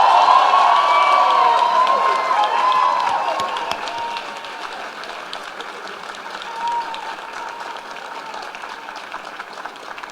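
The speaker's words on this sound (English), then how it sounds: "let's have one more round of applause for all of today's graduates" Audience applause for graduates at a Vancouver Island University graduation ceremony, a dense wash of many hands clapping with some cheering, loud at first and tapering to a softer, steady patter over the last several seconds.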